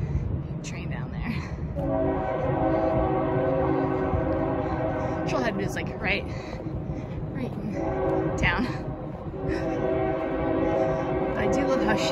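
A train rumbles steadily through a wooded valley below a shaded trail in the Central Cascades near Heybrook Ridge, Washington, with a long sustained horn tone sounding twice. A person talks over it.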